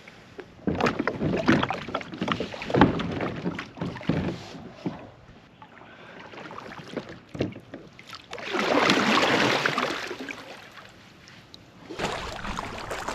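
A kayak being paddled on windy water, with rhythmic paddle splashes and strokes close by, gusts of wind buffeting between strokes.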